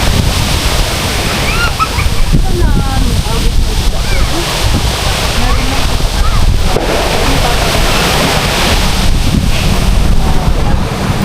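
Strong, steady wind buffets the microphone in a constant roar, with water or surf underneath and faint voices mixed in.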